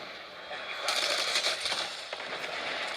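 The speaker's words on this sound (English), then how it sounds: "Friendly predator missile inbound." A predator missile strike explodes in a multiplayer shooter video game, a loud burst of crackling blast and debris noise that swells and then tails off into a sustained rumble.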